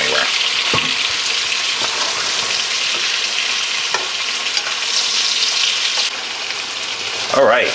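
Pork belly and pork chops fry in a pan with a loud, steady sizzle and crackle throughout, occasional clinks of a utensil, and a brief swell of hissing near the end.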